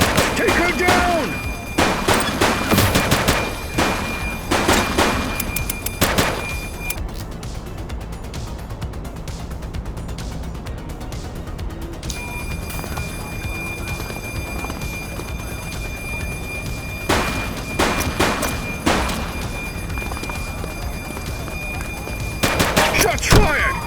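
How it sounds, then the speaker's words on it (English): Gunfire bursts in The Precinct, a police action game, come in dense clustered volleys near the start, middle and end, with quieter stretches between and some speech mixed in. "Shots fired!"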